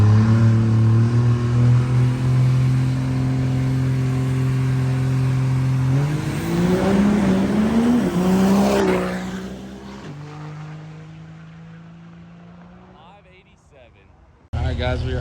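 A diesel truck making a drag racing pass, a loud low engine drone that rises in pitch as it accelerates and then fades into the distance, with a brief sharp noise at the end.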